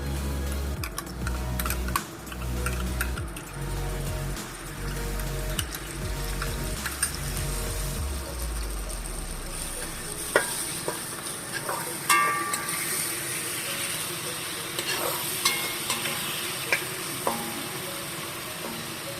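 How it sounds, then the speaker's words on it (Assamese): Ginger garlic paste poured into a hot pan while cooking a mustard-seed fish curry, sizzling and frying steadily with stirring scrapes and utensil clicks, a low rumble fading partway through, fairly quiet throughout. "এয়া আদা নহৰু পেষ্ট ঢালি দিছোঁ।"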